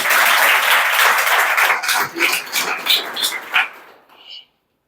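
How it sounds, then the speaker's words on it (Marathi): An audience at a congratulatory gathering gives a burst of hearty applause that is loud and dense at first, then thins into scattered claps and stops. "जोरदार टाळ्या"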